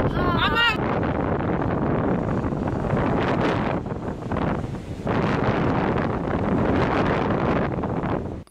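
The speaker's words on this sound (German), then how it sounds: "wie der Wind diesen Schaum über den Strand fegt" Strong wind blows steadily across a North Sea beach on Sylt at Ellenbogen, a loud, gusting roar buffeting the microphone and driving foam over the sand, with a brief high call or squeal right at the start.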